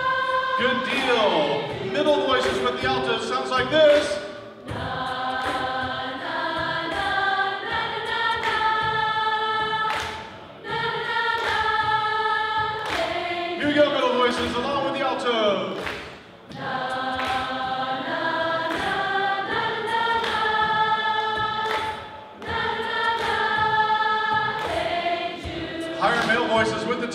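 An a cappella group at a camp sings, middle voices together with the altos, in repeated syllabic phrases, loud and close, in four bursts separated by brief pauses.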